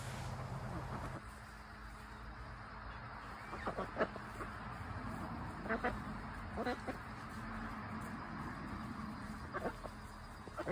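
Ducks quack in short scattered bursts outdoors, moderately distant, over a steady background hum, with a recovering hen walking among them.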